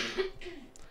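A woman coughs once, faint and in the background, a short rough burst in a quiet room.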